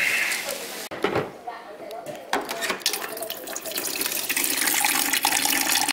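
Tap water running into a container to mix an intra-workout drink, a steady broadband rush that builds and stays loud after a few seconds of clatter and handling sounds, with talk around it.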